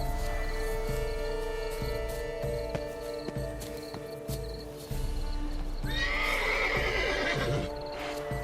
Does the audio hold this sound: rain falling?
no